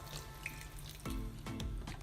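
Milk is poured into a pan of cooking seviyan (vermicelli), giving a soft liquid splashing and gurgling in two short pours, fairly quiet, with no speech.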